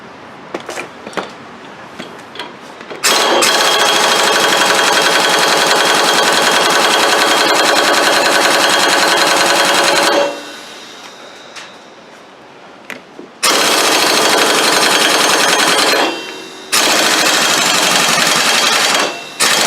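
Pneumatic air tool hammering away on a Craftsman mower during a drive belt replacement: loud, rapid rattling bursts of several seconds each, separated by quieter pauses with a few faint clicks and knocks.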